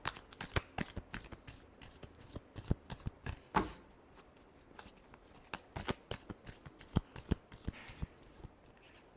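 Tarot cards being shuffled by hand, crisp close-up riffles and slaps in irregular bursts, clear and alone in a quiet room.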